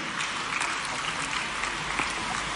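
Audience applause at a UPSC candidates' honour ceremony in Bhopal, a steady, dense clapping that fills the hall evenly from start to finish with no voices on top.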